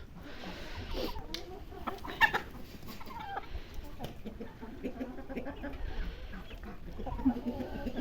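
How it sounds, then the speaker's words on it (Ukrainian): Chickens cluck in a Ukrainian village yard, with repeated close clucks and short calls scattered over a steady outdoor background. "Ну, курі з'їдять твою кашу."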